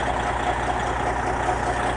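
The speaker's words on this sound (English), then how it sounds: "I got the truck warming up" A truck engine idles steadily while warming up in a shop, a continuous low rumble with even texture held at close range throughout, no voices present.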